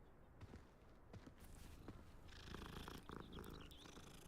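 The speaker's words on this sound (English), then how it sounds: "Oh, the purring comes through the controller microphone." A cat purring in the Hogwarts Legacy video game, heard through a controller speaker as a faint, steady, rumbling purr under low background game noise.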